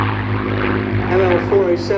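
Supermarine Spitfire LH434 passing right to left at an airshow, a steady droning propeller engine hum that swells slightly as it crosses, with a commentator talking over it throughout.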